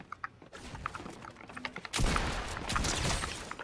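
Pump shotgun blasts in the video game Fortnite, a burst of sharp reports followed by a dense, loud stretch of overlapping gunfire and impacts in the second half.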